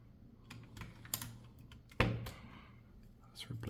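Keys click on an AKKO 5075B gaming keyboard in a handful of light, scattered taps, with one sharper, louder clack partway through, close up and quiet.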